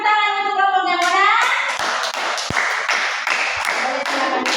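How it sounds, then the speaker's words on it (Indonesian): A brief voice gives way to a burst of scattered clapping from a group of children in a classroom, applauding a group of classmates, lively and uneven. "tepuk tangan untuk kelompok yang mana"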